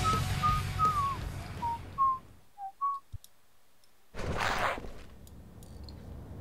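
Whistling in the Duke Nukem Forever video game, a short run of clear whistled notes over low background noise, followed by clicks and a brief burst of noise.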